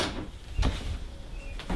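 Salvaged 1930s wooden doors, repainted red and hung on sliders in a timber frame home, roll along their track with soft low rumbles and two clunks, near and quiet, with no talking.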